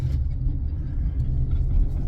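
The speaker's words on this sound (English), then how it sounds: "But you can still hear the engine working, that inline 4 working its way." Toyota RAV4 SUV with an inline four-cylinder engine running while driving, a steady low rumbling drone heard from inside the cabin with no talk.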